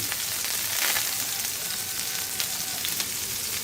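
Half a cup of chopped onion sizzling and frying in hot oil for vegetable noodles, a loud, steady crackle throughout with no talking.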